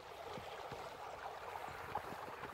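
Small creek in Uwharrie National Forest flowing steadily, a soft continuous gurgle and trickle at low level with faint splashes, no voices.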